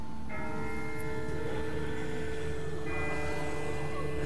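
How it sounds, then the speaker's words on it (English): Distant church-style bell ringing inside The Walking Dead video game, with sustained overlapping tones that swell again midway through, heard far off over a low ambient rumble with no talking. "That's not the same bell as before. This one's further off."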